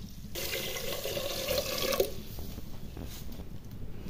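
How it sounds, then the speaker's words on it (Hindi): Water pours from a tap into a pressure cooker, a steady splashing rush for about two seconds that then stops, leaving faint drips and quiet clatter in a kitchen. "ये डाल दिया पानी"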